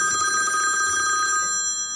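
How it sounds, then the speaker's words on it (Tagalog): A telephone rings loudly and continuously with a bright, metallic bell tone, cutting off near the end of the clip. "May tumatawag. May tumatawag. Telepono."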